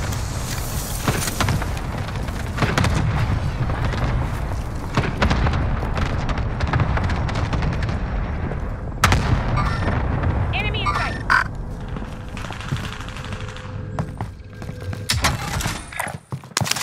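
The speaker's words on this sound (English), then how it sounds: "Allied cluster strike arriving." Cluster strike artillery in a battle royale video game, a rapid barrage of booming explosions and crackling gunfire rolling on for many seconds, loud and continuous, with brief electronic cues and a few sharp bangs near the end.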